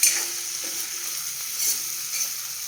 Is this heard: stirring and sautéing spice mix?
yes